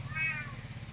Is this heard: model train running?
no